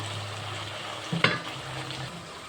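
Vegetables cooking in a pan with turmeric, a soft steady sizzle with a brief stir and clatter of a spoon in the middle, close and fairly quiet.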